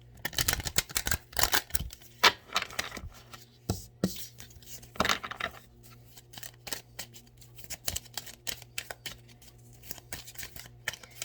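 Tarot cards being shuffled by hand in quick riffling and tapping bursts, close and fairly quiet, with a steady low hum underneath and no talking.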